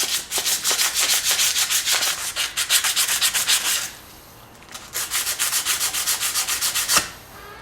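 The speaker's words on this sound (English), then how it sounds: "take a little bit of sandpaper / crocus cloth, whatever you want to call it, and clean up the hub" Sandpaper or crocus cloth rubbed on a Honda Accord wheel hub: fast, rhythmic back-and-forth scrubbing strokes, close and steady, with a short pause near the four-second mark before resuming; no talk.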